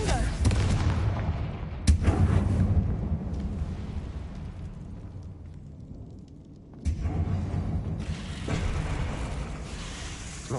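Confringo fire spells burst in Hogwarts Legacy, two loud explosive booms several seconds apart, each followed by a rumbling decay, with game sounds and some speech mixed in.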